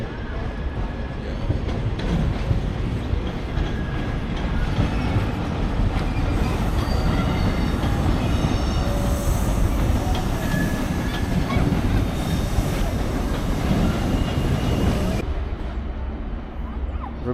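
A train passing close to Edinburgh's railway station in Scotland, a steady loud rolling rumble with rail clatter and faint wheel squeal lasting well over ten seconds, then dropping away near the end.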